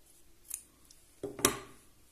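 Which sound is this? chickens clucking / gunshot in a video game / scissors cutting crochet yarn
scissors cutting crochet yarn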